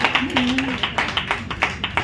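Scattered audience clapping at an Inner Wheel Club official visit event, with irregular hand claps through the whole stretch and a brief hum beneath.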